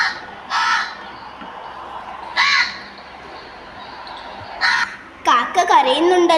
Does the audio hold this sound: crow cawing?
yes